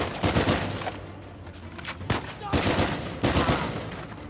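Video game gunfire from a burst sniper rifle in Uncharted 4, loud overlapping bursts of rapid shots that roll together into dense, sustained firing with a few sharper cracks.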